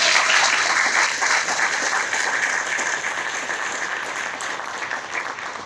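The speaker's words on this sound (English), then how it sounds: "Give Father Bills and MainSpring a hand clap." Audience applause at an outdoor ribbon cutting ceremony for a homelessness services organization, a dense, continuous round of clapping that starts strong and slowly tapers off, with no voices over it.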